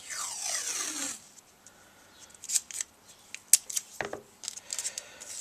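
Masking tape is torn and pressed across the petrol tank opening of a Honda CB200, a long rip of tape off the roll followed by several short crinkly taps and snaps up close, with no talk.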